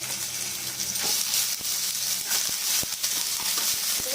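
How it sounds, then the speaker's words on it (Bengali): Ginger, garlic, cumin and green chili paste fries in hot oil in a pan for a Bengali fish curry, a steady soft sizzle and hiss with scattered small clicks and pops throughout. "ভালো করে ভেজে নেবো।"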